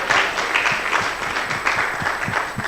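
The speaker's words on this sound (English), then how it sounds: "So please let us applaud him." Audience at a debt managers' network conference applauding a presenter, steady clapping from a roomful of people lasting a few seconds, fairly loud and continuous.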